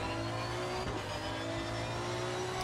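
A race car engine in the Assetto Corsa Competizione racing game drones steadily and loud for the whole moment, a sustained revving tone with no talk over it.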